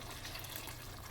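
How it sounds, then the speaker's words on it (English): Water pours steadily into a pot of bolognese sauce, a continuous close splashing rush throughout. "Let's add the water into."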